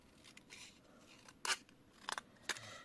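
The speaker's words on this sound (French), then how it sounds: "Je la coupe en deux." Scissors snip through black paper for a handmade Christmas card: a few soft rustles, then three sharp, close crisp cuts, quiet and with no voices.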